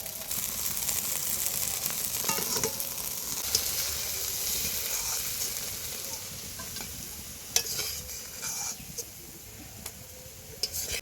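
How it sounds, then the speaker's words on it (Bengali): Hot oil sizzles steadily in a kadai used for a Bengali katla fish and drumstick curry, a continuous bright hiss that stays even throughout with a few small pops near the end and no talking. "কড়াইতে তেল তেলটা গরম হয়ে গেছে"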